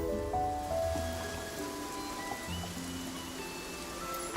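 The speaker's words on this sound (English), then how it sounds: "A rainy day is perfect for picking rainy orchids." Steady rainfall in the video game Infinity Nikki, a soft, even patter under sustained musical tones, quiet and continuous throughout.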